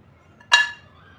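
Peanut chikki pieces clink once against a plate as they are set down, a single bright, close hard-candy tap that rings briefly before fading into quiet.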